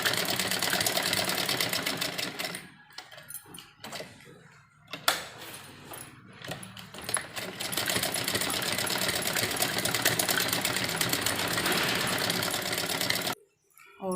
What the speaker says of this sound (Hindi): तो चारों तरफ हम इसके दबी हुई सिलाई लगाएंगे।